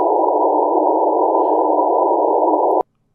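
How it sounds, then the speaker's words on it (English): Band-pass filtered noise limited to roughly 300 Hz to 1 kHz, a steady hissing rush held for nearly three seconds before stopping abruptly, loud and alone. "the noise that would get through a bandpass filter that let through frequencies between 300 and 1 kHz would sound like this"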